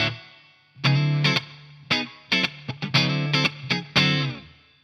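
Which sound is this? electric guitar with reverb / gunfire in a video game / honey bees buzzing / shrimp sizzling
electric guitar with reverb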